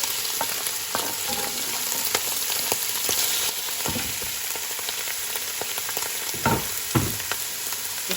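Ham frying in a pan with a little browned sugar, a loud continuous sizzle and crackle with occasional stirring knocks and scrapes, no voices.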